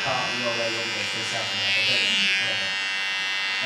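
Electric clippers buzz steadily and close up as they trim a customer's neckline in a barbershop, with someone talking over the hum.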